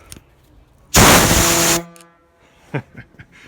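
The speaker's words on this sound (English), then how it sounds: "Let's see if the air horn works." A single loud blast of a Peterbilt 359 truck air horn, just under a second long, then quiet with a few faint knocks afterward.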